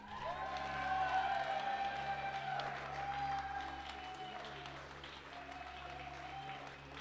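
A tournament crowd applauds and cheers for the champion of the HEX Invitational card-game event, a sustained wash of clapping under a tonal music bed, swelling early then easing off.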